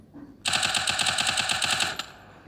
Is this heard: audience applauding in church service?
no